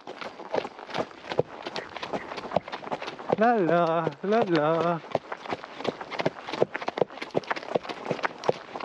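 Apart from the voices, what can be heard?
horse hooves clip-clopping while riding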